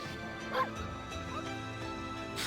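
A dog barking and yipping in the Okami HD video game, a few short, high, fairly faint barks over a steady bed of game music, with no talking.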